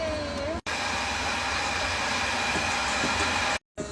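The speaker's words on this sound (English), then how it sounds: "Just going to heat shrink these down." Heat gun shrinking heat shrink tubing onto wires during a beacon install on a 2024 Citroen Relay, a steady close whooshing blower hiss with a faint whine, cutting out briefly twice.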